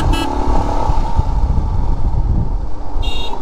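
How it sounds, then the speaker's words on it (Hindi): A motorcycle is ridden fast on an off-road stretch, a loud continuous engine roar with wind rumble, and brief horn toots from passing traffic at the start and end. "तब मज़ा आता है इस बाइक को भगाने"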